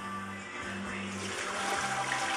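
Water from a bucket splashes and spreads over a shop floor in a collision repair garage, a steady rushing wash that swells slightly toward the end under a constant background hum.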